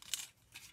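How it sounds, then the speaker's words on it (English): Very small scissors cut out a paper shape on an old mouse pad: two quick, faint, close snips about half a second apart. "I have some very tiny little scissors. So once I finish cutting all this out"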